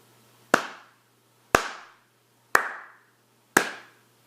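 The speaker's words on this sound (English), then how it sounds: "If I was going to clap this rhythm" Four sharp hand claps spaced evenly about a second apart, each crisp and dry with a short decay, played alone in a quiet room as a steady quarter-note rhythm.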